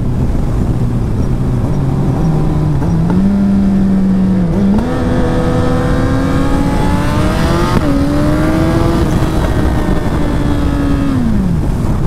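A stretched Kawasaki Ninja H2 motorcycle accelerates hard on an open-road test run, its loud, close engine climbing in pitch through several gear shifts in one continuous roar.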